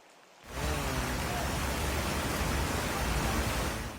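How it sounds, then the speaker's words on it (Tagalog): Heavy, nonstop rain pours down in La Trinidad, Benguet, a loud, dense, continuous hiss that starts abruptly after a quiet moment and holds steady to the end. "walang tigil ang ulan dito sa La Trinidad, Benguet"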